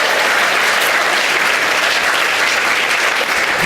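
A large crowd of about a thousand attendees at a teaching conference in Australia claps loudly, forming a dense, continuous roar of applause with no pauses.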